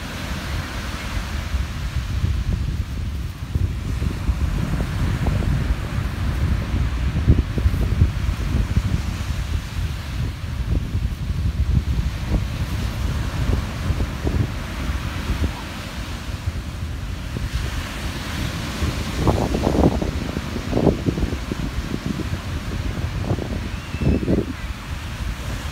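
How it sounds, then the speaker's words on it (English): Strong wind buffets the microphone on a sunny Lanzarote beach, a constant loud roaring rush with surf washing underneath and brief louder gusts, no one talking. "It's like so windy and my hair keeps blowing everywhere"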